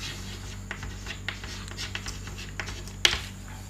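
Chalk or marker scratches and taps on a board in short strokes, quiet and close, ending in one sharper knock; no talking.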